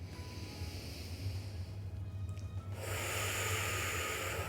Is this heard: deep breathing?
yes